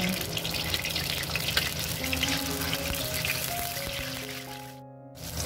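Tofu and tempeh frying in hot oil in a pan, a dense continuous sizzle and crackle, loud and close, with a faint tonal hum underneath before briefly dropping out.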